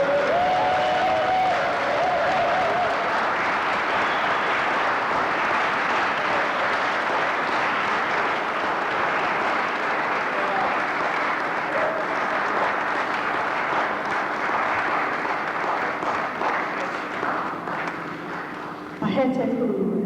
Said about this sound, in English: So a big round Pan-African applause for Dr.